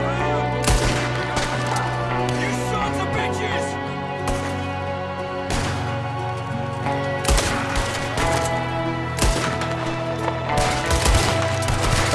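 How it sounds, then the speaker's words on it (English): Pistol gunfire in the Western game Red Dead Redemption II, a series of sharp, loud shots at irregular intervals over a sustained musical and ambient bed. "I have to like cock the pistol before I shoot it"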